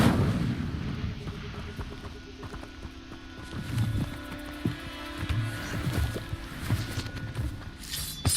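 Incendio fire spell cast in the video game Hogwarts Legacy during a fight with a giant spider, heard as a busy run of bursts, whooshes and impact thumps among other combat effects, with no voices.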